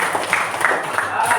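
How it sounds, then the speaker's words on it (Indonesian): A class of schoolchildren claps their hands together in a brief, steady patter of applause, with voices talking over it throughout. "kasih tepuk tangan semuanya"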